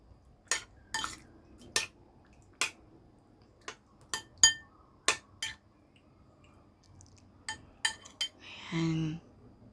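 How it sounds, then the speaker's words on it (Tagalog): Chicken wings tossed and stirred in a sauce marinade in a bowl, giving a series of sharp utensil clinks against the dish at irregular intervals, close and distinct, ending in a short burst of wet mixing. "Tapos, ang chicken wings, ihahalo rin para ma-marinate ng mabuti at ma-absorb niya yung sauce."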